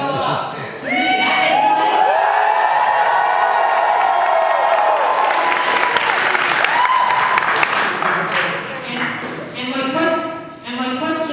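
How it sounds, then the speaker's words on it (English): A convention panel audience cheers and applauds loudly, a dense wash of clapping, whoops and shouts that swells, dips and rises again, with voices calling out over it. "Can we just cheer really loud?"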